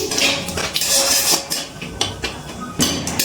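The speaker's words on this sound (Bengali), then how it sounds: "এবার ফোড়নটা কিছুক্ষণ একটু নাড়াচাড়া করে নিচ্ছি" Dry red chillies, cinnamon pieces and whole cumin being stirred in hot oil, a spatula clinking and scraping against the pan in uneven knocks over a soft sizzle, close and fairly loud.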